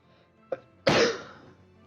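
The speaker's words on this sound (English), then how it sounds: "My fucking explosive sneezes" A short catch of breath comes first, then one explosive sneeze bursts out loudly and close before trailing off quickly.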